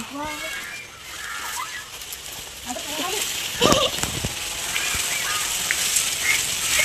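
Several goats bleat over a noisy outdoor garden background, with voices talking nearby and a burst of louder clatter midway.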